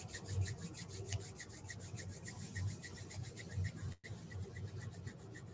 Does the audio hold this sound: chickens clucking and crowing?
no